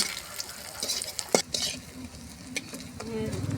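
Food sizzles as it fries crisp in a pan in a home kitchen, with steady hiss, a few scraping stir strokes and light utensil clinks close by, and no talking.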